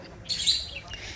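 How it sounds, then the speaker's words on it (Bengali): Birds by a heart-shaped lake in a park give a quick, high chirping burst that fades within a second against a quiet outdoor background. "চারিদিকে কি সুন্দর পাখিদের গান মানে কথা শোনা যাচ্ছে পাখিদের সাউন্ড"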